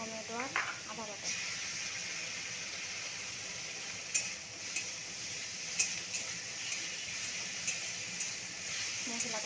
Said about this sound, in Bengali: এরপরে দিয়ে দিচ্ছি বেটে রাখা মশলাটাকে আমি ভালো করে ভেজে নেব।